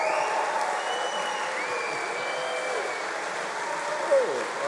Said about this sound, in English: Waving, cheering, and a huge round of applause.